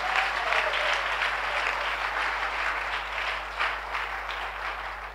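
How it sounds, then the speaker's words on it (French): A church congregation claps in praise during a service, a dense, sustained burst of applause from a large crowd filling the room, steady throughout with no speech over it. "Give the Lord a big clap of praise."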